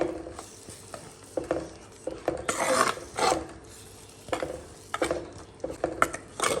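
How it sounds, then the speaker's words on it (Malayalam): Tomato masala stirred in a pan, with rhythmic rasping scrapes of a spoon against the pan in bursts and short pauses between strokes, close and clear with no talking. "ഇത് നന്നായിട്ടൊന്ന് ഇളക്കിയിട്ടൊന്ന് നന്നായിട്ടൊന്ന് പച്ചമണം പോകുന്നത് വരെ റെഡിയായിട്ട് വരട്ടെ"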